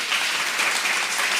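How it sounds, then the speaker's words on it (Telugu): A church congregation applauding during a Sunday service, a steady wash of clapping from many hands that stays at an even level for the whole moment, with no talk over it. "విశ్వసించిన వారు దేవునికి చప్పట్లు కొట్టి మహిమపరిచాడు"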